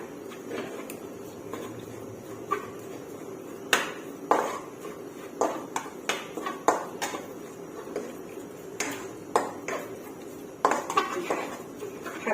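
Green curry paste is stirred with coconut milk in a pan with no oil, heard as repeated clinks and scrapes of a utensil against the pan under a low background hiss, close and moderately loud.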